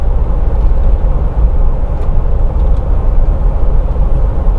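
Cabin road noise inside a moving 5,900-pound Mercedes-Benz G-Wagon on 19-inch Pirelli tires, a loud, steady low rumble of tires and engine, with no talk.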